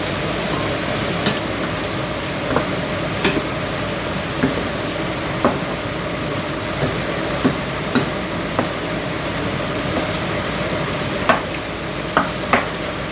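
African eggplants sizzle in a hot pan over a constant loud crackle, while a utensil turns them with regular sharp clicks and scrapes every second or so.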